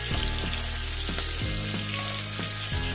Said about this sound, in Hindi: गैस का फ्लेम तेज भाई, फुल गैस पे हमने इसको निकालना है, और सबसे पहले हम शिमला मिर्च निकालेंगे